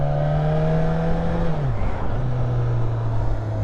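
A Suzuki 1000 Katana motorcycle engine pulls hard in first gear with a loud, steady droning whine that rises, dips briefly mid-run, then settles back into a strong even hum.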